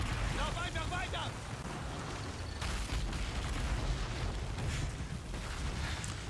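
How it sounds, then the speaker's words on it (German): Explosions go off in the video game Call of Duty: Ghosts, a continuous deep booming rumble with scattered blasts and debris noise, and a voice talks over the chaos. "Schwer zu laufen, wenn hier alles explodiert."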